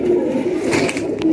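A pigeon coos close by, a soft, throaty burbling call that rolls on steadily for a moment, fairly loud and with no voices over it.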